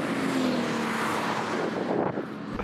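An old BMW V8, the M62 engine, revs up at a drag-race start, a loud continuous roar that rises in pitch and stays close for the whole stretch.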